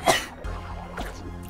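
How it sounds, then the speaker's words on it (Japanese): A single sharp, close sneeze at the start, brief and loud, followed by quieter game background sound. "すいません、くしゃみが。"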